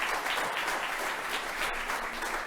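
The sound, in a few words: audience applause for the Foreign Minister of Denmark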